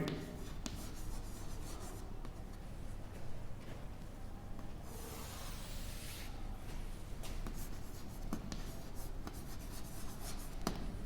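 Pen writing steadily on paper while drawing and filling in a table for a school lesson on states of matter, a continuous close scratching and rubbing that runs alone for the whole stretch.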